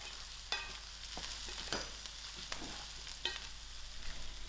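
Garlic and green chilies fry in a pan for a spicy fish head curry, giving a steady close sizzle broken by several sharp scrapes and knocks of stirring, with no talking.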